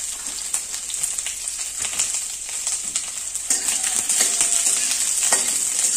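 Thickly cut onion and a large garlic clove fry in a pan as they are stirred, giving a steady, bright crackling sizzle that grows busier and a bit louder toward the end, with no talking.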